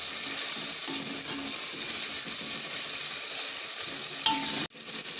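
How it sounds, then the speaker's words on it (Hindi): Steady, dense sizzling of beef keema frying in a pan, broadband and continuous, with a brief clink near the end. "3 से 4 मिनट इसको अच्छे से भूनने के बाद"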